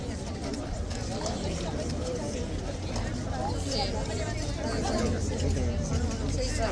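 Horse hooves clop on pavement amid a large, dense crowd at a protest near Big Ben, the steps faint under a constant babble of many voices and nearby conversation.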